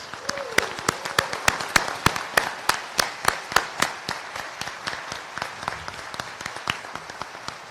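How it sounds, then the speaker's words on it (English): An audience at a university induction ceremony claps in sustained applause, the sharp individual claps packed closely together and holding steady throughout. "Please join me in giving the class of 2025 a round of applause."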